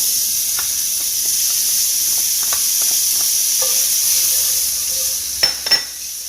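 Frozen peas and carrots sizzle steadily in a frying pan for keto fried rice, a constant hiss with a few light clicks and pops and two louder stirring knocks near the end.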